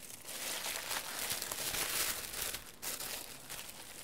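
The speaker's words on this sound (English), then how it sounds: "I'm going to go ahead and unwrap the keyboard." Packaging crinkles and rustles as a Logitech MX Mechanical Mini keyboard is unwrapped, with steady close crumpling and a few sharper tearing sounds.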